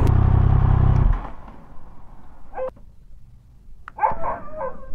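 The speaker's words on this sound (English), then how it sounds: "Now all the dogs are barking." Dogs bark a few times at night, some sharp and some farther off, after a loud low rumble that stops abruptly.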